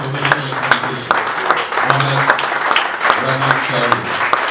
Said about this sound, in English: can you please stand up and give a round of applause